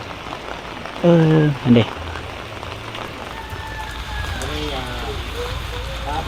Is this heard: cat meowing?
no